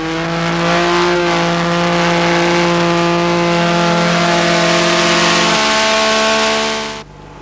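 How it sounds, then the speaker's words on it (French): A Cosworth V8 engine in a rally car holds a loud, sustained high-revving drone, pitch easing slightly before it cuts off abruptly near the end, heard alone without speech. "Ce moteur Cosworth V8 était jadis la norme pour la Formule 1."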